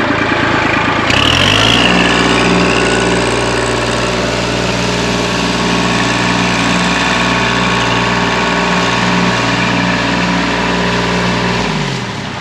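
A tractor engine runs at a steady idle, a loud continuous low rumble close by, holding unchanged for the whole stretch with no talk.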